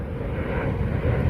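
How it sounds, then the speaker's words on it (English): A fixed-wing airplane passing overhead above a roundabout campsite, a steady low engine drone sustained throughout the brief moment, fairly loud and with no talk. "there's the aeroplane again"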